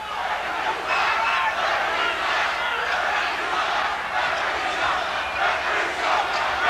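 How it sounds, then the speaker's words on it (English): A restless 1987 college basketball arena crowd at New Mexico State during a UNLV game, a sustained roar of voices, shouts and jeers that stays loud throughout. "Crowd getting a little angry and frustrated now after that glorious first half for New Mexico State."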